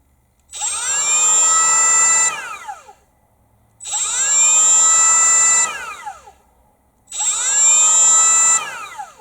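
A Makita XTR01Z cordless trim router runs three times at low speed, each run ramping up smoothly with its soft start, holding a high whine, then dropping quickly under its electric brake, separated by short silences.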